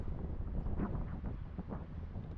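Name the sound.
wind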